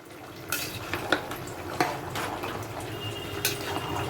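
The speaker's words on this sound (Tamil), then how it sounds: "ரைஸை ஓப்பன் பண்ணி நம்ம நல்லா கிளறி கொடுத்துக்கலாம்" A spoon scrapes and clinks against a pressure cooker as rice for beef biryani is stirred, with irregular metallic taps and soft wet shuffling, close by.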